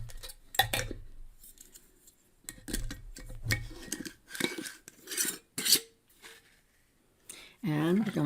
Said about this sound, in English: now we're going to put our lid on